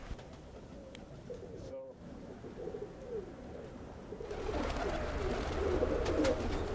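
Pigeons in a backyard coop give soft, low coos that are faint against steady outdoor background noise, and the noise swells toward the end.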